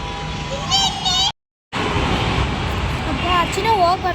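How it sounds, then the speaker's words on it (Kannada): Busy town street with many vehicles going by, a steady broadband road rumble running throughout while people talk over it, cut by a brief moment of silence partway through. "ಗಾಡಿ ನೋಡಿ ಎಷ್ಟೊಂದು ಓಡಾಡ್ತವೆ."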